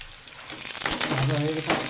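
Onion and chili frying in a pan for a pakal fish chorchori, a soft sizzle rising partway through with a few stirring clatters, close and moderately loud.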